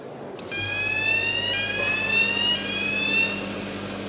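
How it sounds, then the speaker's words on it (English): A GreCon spark detection and extinguishing system sounds its alarm after a spark is introduced, a loud, steady electronic tone with a bright high whistle held for several seconds over a low machinery hum. "I've introduced a spark to the system. The detector has picked up the spark, has sent a signal to the control console"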